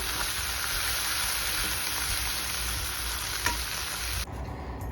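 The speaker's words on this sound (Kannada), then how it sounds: "ಇದು ಹಸಿ ಮಸಾಲ ಎಲ್ಲ ಹೋಗೋ ತನಕ ಫ್ರೈ ಮಾಡ್ಕೊಳ್ಳಿ" Mint paste masala fries in a hot pan with a loud, steady close-up sizzle and occasional stirring scrapes, ending abruptly near the finish; no speech.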